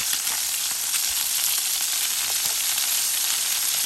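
Halibut fillets searing in a hot pan give off a steady, dense, close sizzle that holds evenly throughout, with only a few faint pops and no talking.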